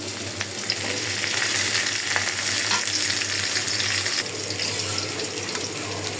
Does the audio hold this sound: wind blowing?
no